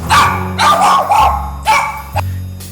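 A dog barks loudly and close in a run of four or five sharp barks with short pauses, some ending in a higher yelp, over a low background hum.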